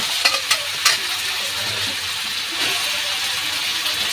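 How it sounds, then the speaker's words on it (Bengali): Mutton sizzles steadily in a hot pan for a home-style curry, with a few sharp scraping stirs near the start over a constant frying hiss. "ভালো করে ভেজে নেবো"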